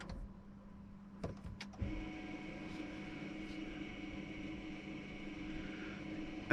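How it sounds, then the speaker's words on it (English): Electric parking brake motor on a Range Rover Evoque going into maintenance mode, a couple of sharp clicks followed by a steady, faint mechanical whir that holds on. "you can hear it go into maintenance mode"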